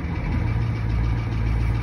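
A 1985 Ford F-350 with a 6.9 IDI diesel idles after a cold start, a steady low clattering rumble close to the microphone.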